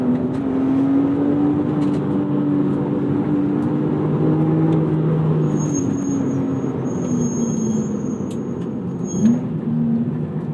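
A modified 2002 BMW M3 E46 with its S54 inline-six runs loud and close, its engine note rising and falling as it revs, with a brief high whine partway through and no talking.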